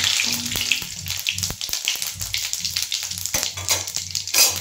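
Bay leaf, cumin seeds and a dried chilli sizzle in hot oil, giving a close, crackling spatter with sharp pops and ticks scattered irregularly over the hiss.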